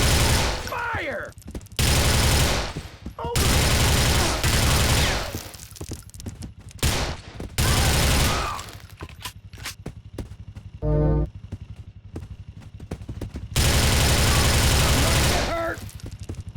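Bursts of automatic gunfire from the video game GTA Vice City, several loud sustained volleys separated by short gaps, mixed with in-game voices and effects.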